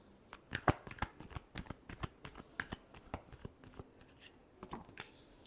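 A deck of tarot cards being shuffled by hand, a quick series of crisp riffling clicks and soft slaps, close and alone with no talking.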